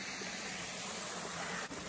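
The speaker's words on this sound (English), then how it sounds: "There's actually tons of little waterfalls on this stream that the trail's following." Clear little Ozark creek with many small waterfalls, on a trail near the Buffalo River, giving a steady broadband rush of flowing, splashing water, close and continuous, with no talk.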